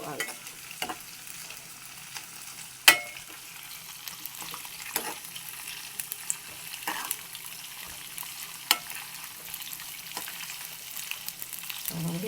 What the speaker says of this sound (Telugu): ఇట్లా కొద్దిసేపు వేయించుకోవాలి.